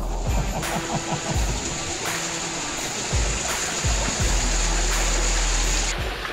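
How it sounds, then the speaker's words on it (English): Warm thermal spring water cascading down rocks along the Gibb River Road, a steady close rushing splash filling the whole stretch with small gusty surges and no talk. "This is a thermal spring coming out of the ground. So that's actually warm water cascading down."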